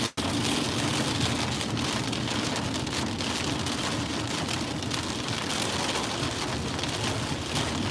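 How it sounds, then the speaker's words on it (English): Heavy wind-driven rainstorm in Las Vegas, a dense, steady roar of rain lashing surfaces continuously throughout, close and loud, with no voices. "Big wind pushing the rain."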